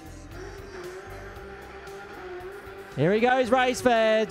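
A championship-winning race car spins donuts after a race: an engine drones under excited commentary, then loud, wavering tire squeals and revving burst in for the last second or so.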